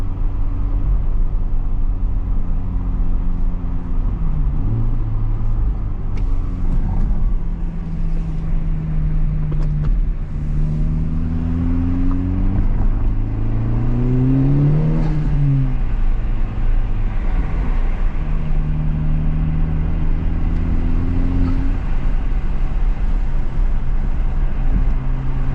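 Honda Civic FL5 Type R cruising, heard from inside the cabin: a steady engine drone whose pitch rises and falls as the car accelerates and shifts through gears, over constant road noise.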